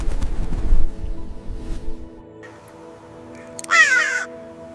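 A single harsh crow caw rings out near the end, loud and close, after a stretch of quieter low rumbling background.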